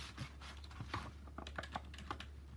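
Clicky mechanical computer keyboard being typed on, a quick run of crisp key clicks close by and fairly quiet, with no talking.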